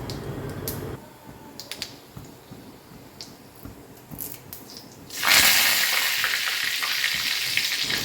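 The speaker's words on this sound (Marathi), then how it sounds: "लगेचच यामध्ये स्वच्छ धुतलेली ताजी हिरवीगार कढीपत्त्याची पानं घाला" Fresh curry leaves drop into hot oil with cumin for a fish gravy; after a quiet sizzle and a few clinks, a loud burst of crackling frying erupts and stays strong and close.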